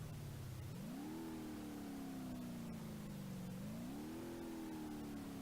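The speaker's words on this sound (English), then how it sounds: "don't rev it up too much" Revving car engine in BeamNG.drive, a stripped D Series with a roll cage and LSX V8 swap: a steady low drone that climbs twice in pitch as the throttle is blipped, continuous and close with no talk.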